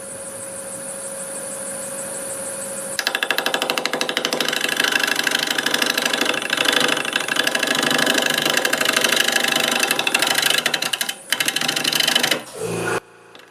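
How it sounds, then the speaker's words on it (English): An air compressor kicks on in a woodturning shop, its rapid mechanical chugging and rattling running loud and steady for several seconds after a quieter lathe hum, then cutting out abruptly near the end. "My air compressor came on"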